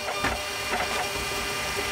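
Shipping-label printer running in a thrift store setting, a steady mechanical whirring hum with faint rhythmic pulses, moderately quiet and continuous with no voices.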